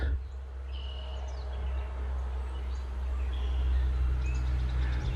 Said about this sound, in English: Oh yeah, you can hear all the birds.